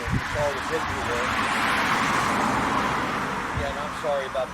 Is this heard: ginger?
no